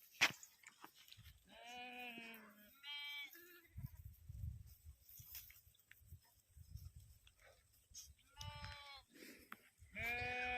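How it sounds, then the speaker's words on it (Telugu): A flock of sheep being driven out to graze bleats repeatedly, several animals calling near and far, with shuffling hooves and rustling between calls. "ఐ మీన్ గొర్రెలు తోలుకొని మేతకి అనమాట తోలుకుపోతుంటుంది"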